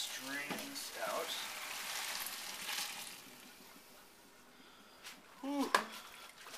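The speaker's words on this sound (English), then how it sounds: "our pasta is done, so I'm going to go ahead and strain this out" Cooked pasta being strained, with water pouring and splashing through a colander in a home kitchen for about three seconds before fading, followed by a few quieter clattering knocks of the pot.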